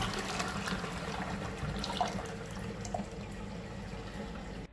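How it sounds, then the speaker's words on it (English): An H50 smart toilet runs its big flush, a faint, steady rush and gurgle of water that continues through the whole clip before cutting off abruptly at the end. "Press the big flush button to activate the big flushing function."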